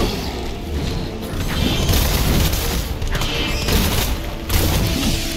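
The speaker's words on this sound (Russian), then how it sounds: "Что там взрывается?" An explosion in the video game Resident Evil 2 Remake, with heavy booming, crashing blasts and thuds rolling through a dense, loud mix for several seconds.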